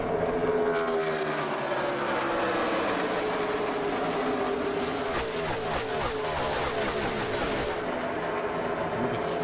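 NASCAR stock cars racing at the 2020 Brickyard 400 roar past in a close pack down the backstretch, loud continuous engine howl with rising and falling pitch as cars pass side by side, no talk.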